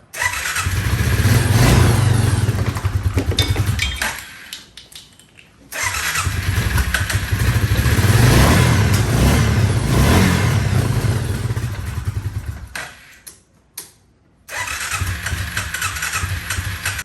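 A Suzuki Quad Runner 500 ATV engine cranks and catches, then idles and revs in loud, close bursts, cutting out twice before starting again near the end; no one speaks.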